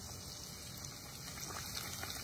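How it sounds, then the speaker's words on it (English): Steady, dense sizzling and bubbling of a tortilla frying in hot oil, continuous and close, with no voices. "let's fry this"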